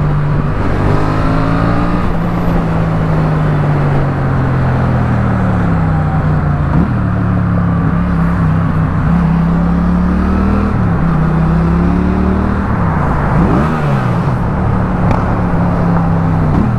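A Yamaha XSR700 motorcycle engine runs loud and close, its exhaust note rising and falling with repeated throttle blips and gear changes throughout.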